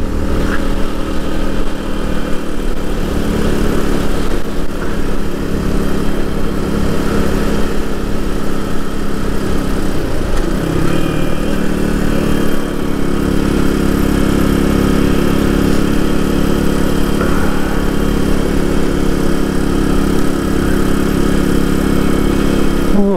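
Suzuki DR200 motorcycle cruising on a highway into a headwind, a steady loud engine drone with rushing wind noise throughout, a brief shift in tone around midway.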